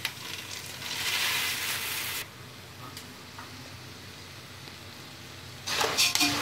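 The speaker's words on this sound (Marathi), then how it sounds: "चुरमुरे टाकून हलवून द्या।" Warmed puffed rice for bhadang chivda is tossed into hot flavored oil in a pan, giving a steady crackling sizzle that eases after a couple of seconds, then a sharper burst of stirring near the end.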